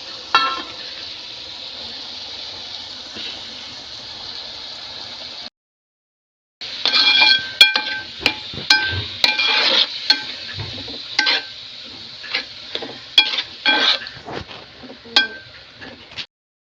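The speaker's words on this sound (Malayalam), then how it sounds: "പച്ചമുളക് എല്ലാം കൂടെ ഒന്നിച്ചങ്ങോട്ട് വഴറ്റുവാണ്" Green chillies and other ingredients sauté in oil for a chicken biryani. A close steady sizzle runs under frequent scraping stirs and clinks of a spoon against the pan, broken by a brief silent gap.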